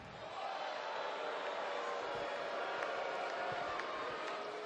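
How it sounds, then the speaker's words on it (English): Wrestling arena crowd during Raw, a dense steady roar of booing and cheering that fills the space continuously, loud and sustained with no clear breaks. "Oh, boo all you want, cheer all you want, yell for The Undertaker all you want."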